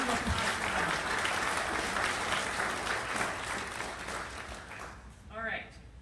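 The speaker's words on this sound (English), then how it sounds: "How about a round of applause for them?" Conference audience at a community media gathering applauding the exhibitors, sustained crowd clapping that gradually thins toward the end, with a voice speaking briefly over the tail.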